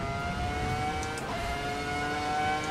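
A race car engine in Assetto Corsa EVO drones steadily at high revs, a smooth sustained whine with layered harmonics and a slight pitch waver, loud and close with no voices.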